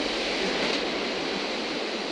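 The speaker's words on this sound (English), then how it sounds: "That is a good drop down to crashing waves." Surf crashing at the foot of a cliff near Albany, Western Australia, heard as a loud, steady, broadband roar that carries on for the whole stretch with no talking over it.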